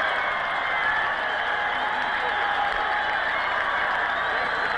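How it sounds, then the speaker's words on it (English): Stadium crowd at a Georgia Southern vs SFA national championship football game roars after an interception, a loud continuous wash of cheering and applause that holds steady throughout. "Listen to this crowd go crazy now."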